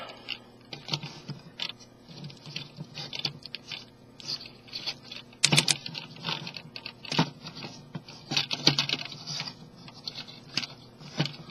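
A plastic Transformers Springer figure being handled and transformed, parts folded and pushed: a busy run of small plastic clicks, snaps and rattling close by, with a sharper crack partway through and no talk.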